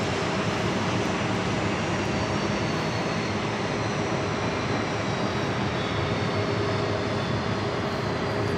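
A Caribbean Airlines jet airliner with a hummingbird tail produces a steady, dense engine roar at JFK airport, unbroken and even in level from start to finish, without voices.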